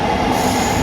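A train pulls out of the low level platform at London St Pancras International, a loud, steady rumble of wheels and motors close by with a faint high squeal, and no voices.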